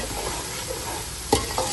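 Fried chicken pieces being stirred and tossed in a hot pan, a steady close sizzle with a couple of sharp scrape or clatter hits near the end, no talking.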